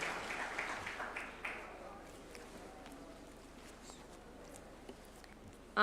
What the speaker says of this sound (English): A round of applause, please, as she approaches the swearing-in arena.